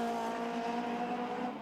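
The ANZ Ford Sierra Cosworth RS500 race car crosses the finish line in the 1988 Bathurst Top Twelve Shootout, its engine holding a steady, sustained tonal drone, moderately loud and unbroken.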